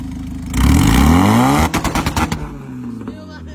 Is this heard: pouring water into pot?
no